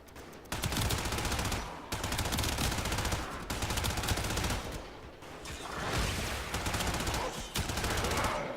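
Rapid automatic gunfire from a weapon in the sci-fi shooter Warframe, loud and close, coming in sustained bursts separated by brief pauses while a tower-capture match goes on.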